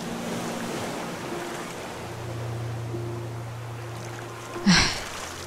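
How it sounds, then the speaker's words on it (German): Wind and ocean waves in the survival game Raft make a constant, fairly loud rushing surge with a low hum beneath it. A single short knock sounds near the end. "Könnte sich der Wind bitte drehen?"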